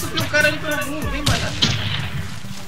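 Bursts of video game gunfire and booming shots from the shooter Warface, on the map Yard, loud and close, with game sounds layered throughout.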